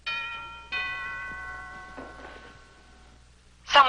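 A doorbell in a police drama gives two clear, ringing ding-dong tones that slowly fade, followed by a short, louder noisy burst at the end.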